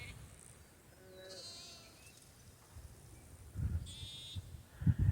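Sheep bleat a few times at moderate distance over a quiet outdoor background on the Appalachian Trail, with some low rumbling thumps nearby.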